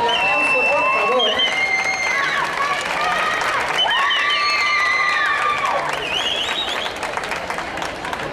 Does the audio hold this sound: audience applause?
yes